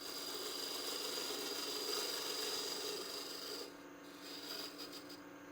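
A wood lathe spins a mortar and pestle blank while a tool cuts a tenon, giving a steady scraping, rasping whir with a high ringing tone. The cutting eases after a few seconds into lighter, intermittent scraping.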